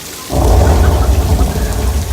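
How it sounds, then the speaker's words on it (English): Heavy artificial rain from a studio rain machine suddenly starts after a quiet moment, a dense, loud downpour splattering continuously with a low rumble beneath. "This is fake rain."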